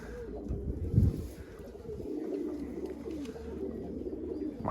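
A tumbler pigeon coos softly outdoors, a low murmuring call rising once clearly near the start, then continuing faintly under light ambient background noise.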